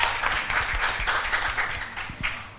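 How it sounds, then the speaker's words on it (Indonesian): Applause for the speakers at a podcast festival in Indonesia, a moderate crowd of clapping hands with uneven pulses, steady and fairly close, without talk. "Tepuk tangan dulu dong buat para pembicara kita."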